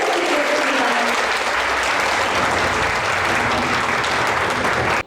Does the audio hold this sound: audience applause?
yes